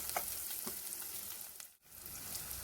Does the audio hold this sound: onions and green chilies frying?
yes